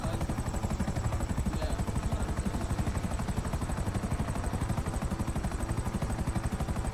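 Helicopter flying in GTA Online, a steady rapid rotor chop pulsing evenly and loudly the whole time, with no talk over it.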